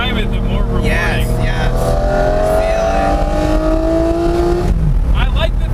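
A Lamborghini Murcielago SV is driven hard up a mountain road, its engine wailing loudly as it climbs through the revs, then dropping sharply on a gear change, with voices talking over it.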